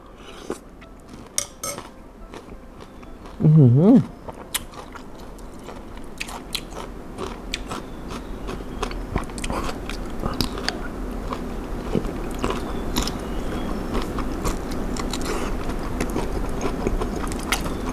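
Someone eats a spicy lime shrimp salad with shallots and whole lime. Close crisp bites and crunches are scattered through with light clinks of cutlery, and one louder crunch stands out early.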